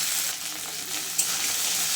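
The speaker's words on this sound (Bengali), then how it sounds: "ভেজে নেব।" Ginger paste with green chillies fries in oil in a pan, a steady bright sizzle that hisses evenly for the whole moment with no voices.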